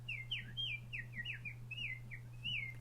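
A series of bright, sliding whistled notes in quick succession, a person whistling in imitation of birdsong, close and clear against a low hum.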